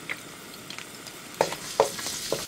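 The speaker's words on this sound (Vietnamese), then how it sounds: "Còn lại dầu trong chảo, mình cho hành tỏi băm còn lại vào phi thơm." Soft sizzle of minced garlic and shallots frying in oil, with a few sharp utensil taps against the pan, close up and quiet.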